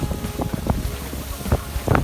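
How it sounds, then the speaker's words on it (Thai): Strong storm wind buffets the microphone in gusty rumbling bursts near Pang Sida National Park, with irregular low thumps and rustling over several seconds and no voices. "ไม่ไหววเนี่ยลมแรงมากเลยนะครับ"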